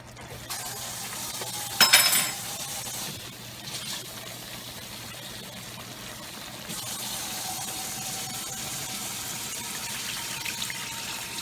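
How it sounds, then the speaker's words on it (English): Water poured into chicken gravy simmering in a pan, a short splashing gush near the start and then a softer, steady sizzle with running liquid, close by with no talking. "So I'm gonna add some more water to that."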